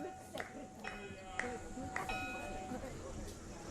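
Bells ringing at a literature festival panel session to signal the session's end, with several bright, clear chimes struck at intervals over a murmuring audience and background talk.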